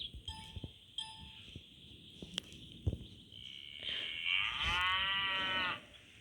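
A cow lows in one long, drawn-out moo that swells and holds for a couple of seconds, preceded by scattered clinks and shuffling footsteps nearby on a farm.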